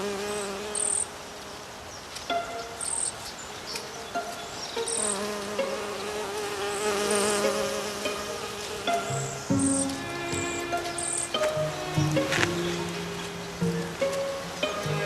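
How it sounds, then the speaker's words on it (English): Wasps and honeybees buzz around apple blossoms, with several close insect drones rising and fading as individuals fly past, over a quiet outdoor background. "certain species, such as the apple tree, depend on insects like wasps and honeybees for this essential service."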